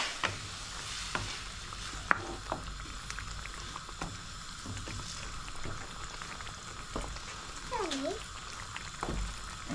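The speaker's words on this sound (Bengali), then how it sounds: "একটু কষিয়ে নিচ্ছি মাছ, যাতে করে মাছের ভেতরে একটু মশলাটা যায়" Kakia fish sautéing in spices in a pan gives a steady, moderate sizzle and bubble close by, with occasional clicks of stirring and someone talking over it.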